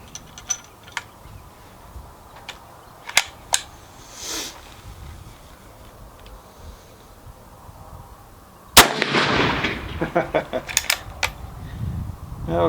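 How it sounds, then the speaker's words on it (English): A single sharp, loud report from a Wyoming Armory custom 1885 single-shot rifle chambered in .25-35 rings out and rumbles briefly, preceded by scattered mechanical clicks and someone talking. "it gives me a chance to shoot some really terrific rifles"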